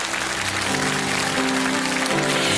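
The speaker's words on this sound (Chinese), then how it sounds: "掌声送给白雪。" Audience applause at a televised Chinese song show, a dense, steady wash of clapping that holds at full strength throughout with no talk over it.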